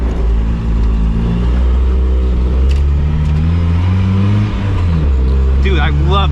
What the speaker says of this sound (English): Little rev match there.